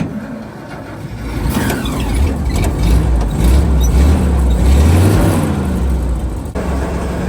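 A 1943 Dodge WC55 truck engine idling and revving steadily up close, with a rough mechanical whine and rattle from a bad water pump bearing running through the rumble.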